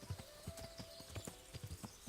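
Horse hooves clip-clopping at a steady walking rhythm in the video game Kingdom Come: Deliverance, close and fairly quiet, with a faint tonal hum underneath and no talk.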